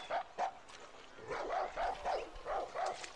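A dog in the video game Far Cry 6 gives a quick run of short, yappy barks, about seven in a little over three seconds, at moderate volume.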